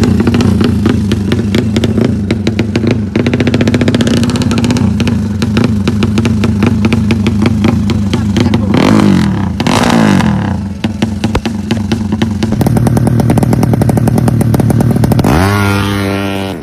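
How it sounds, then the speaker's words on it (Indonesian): A Yamaha drag racing motorcycle fitted with a double silencer revs hard and continuously, its loud, close engine note rising and falling in repeated blips before climbing into a final sustained rev. "meriset motornya dengan menggunakan double slinker pada motor tersebut"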